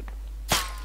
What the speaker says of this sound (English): That was a really close sniper shot.